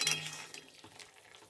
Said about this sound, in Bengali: আলুটাকে দিয়ে ভালোভাবে নেড়ে নিতে হবে